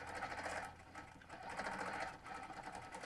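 A quilting machine stitching steadily around a curve on a quilt panel, a continuous mechanical whir with a fast pulsing needle rhythm, close and alone.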